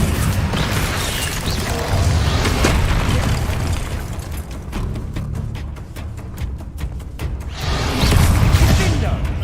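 Fiery Confringo spell blasts in the Hogwarts Legacy video game, loud booming bursts and whooshes layered over continuous game music and combat noise, with a sharper cluster of rapid pops midway and another swell at the end.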